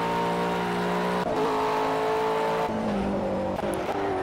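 A McLaren 12C GT3 race car engine in the racing game Project Cars drones steadily at high revs, stepping through gear shifts with brief dips and a rising whine, loud and continuous.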